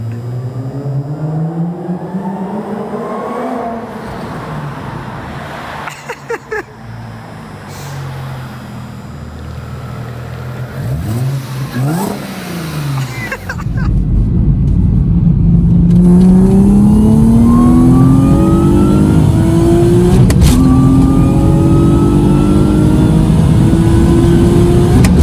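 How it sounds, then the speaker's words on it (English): A supercharged Audi B5 A4 with a 2.8 V6 revs hard and close by, its pitch rising and falling through repeated climbs before settling into a loud, sustained high-revving roar in the second half. "Best sounding V6 I think that Audi Volkswagen makes."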